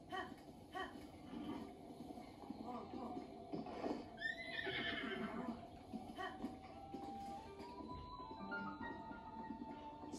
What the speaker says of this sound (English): The horse is still there.